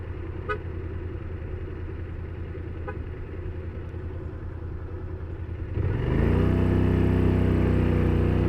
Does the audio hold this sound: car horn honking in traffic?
yes